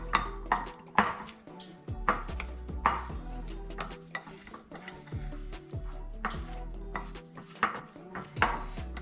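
Pillsbury cheddar garlic biscuit dough is mixed in a bowl. A utensil knocks and scrapes against the bowl in a steady, close, irregular rhythm, with soft thuds, and no one speaks.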